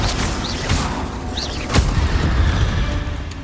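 Confringo fire spell explosions in Hogwarts Legacy, sounding as a couple of sharp magical bursts and a deep boom over loud, rumbling game ambience inside a tomb, with no talking.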